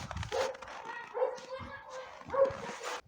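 Dogs in a village yard bark in a few separate yips and woofs, moderately near, with short gaps and some whimpering between barks.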